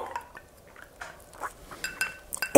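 A spoon stirs a clay and lemon detox drink in a glass, giving scattered light clinks and liquid swishes that grow sharper and louder toward the end.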